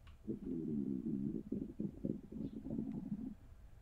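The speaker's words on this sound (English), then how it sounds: "Was that my stomach the whole time?" A low, gurgling stomach rumble rolls on for several seconds in the horror video game Parasocial, bubbling and uneven, fairly close with no voices.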